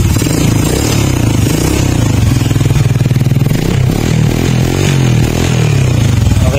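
A Honda XRM 125 motorcycle engine revs at close range, a loud, steady pulsing idle rising and falling in speed with a rattling mechanical clatter throughout.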